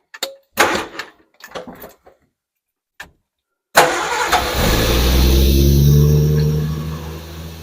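A classic car, an Alpine Renault 1300S not run in a long while, is cranked and fires into a loud, steady idle close by after a few short clunks and pauses.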